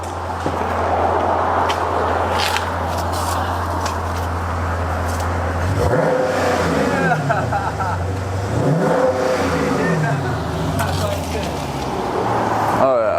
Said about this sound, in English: Stock exhaust sounds amazing. Hit the throttle one time.